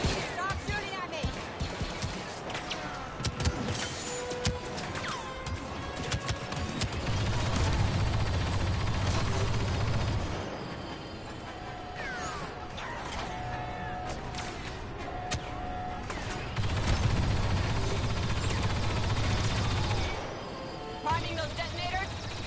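Blaster fire in the Star Wars Battlefront II campaign, repeated sharp zaps and bursts scattered through the scene over a rumbling mechanical background, with voices talking throughout.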